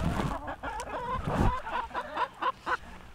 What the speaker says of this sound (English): Are the chickens eating?